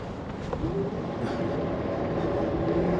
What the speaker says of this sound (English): let's try boost mode one more time. So again, hold the brake and hold the throttle.